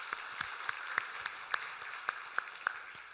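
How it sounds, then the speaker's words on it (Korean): A church congregation at a Sunday service claps for its stewards, mostly distant soft applause with a few sharper, evenly spaced claps standing out near the microphone. "우리 다시 한번 일하실 청지기들을 위해서 큰 박수로 격려하도록 하겠습니다."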